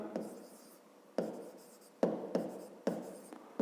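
A pen writes by hand on paper, likely a notebook for a fifth-grade maths exercise, with about six distinct scratchy strokes in an uneven rhythm, close and fairly quiet, with no talking.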